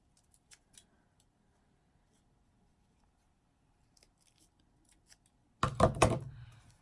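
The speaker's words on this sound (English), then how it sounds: "I'm just going to cut a couple of little slits right here in the center of it with my scissors." Scissors cutting a couple of small slits in the center of a homemade bobbin holder: faint scattered snips and taps, then a short loud crunching burst of cutting near the end.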